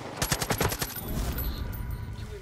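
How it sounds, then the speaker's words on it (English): Rapid automatic gunfire from the video game Far Cry 5, a fast burst of closely spaced shots that gives way to a lingering rumble and ambient game noise, with no talking. "Being shot from behind."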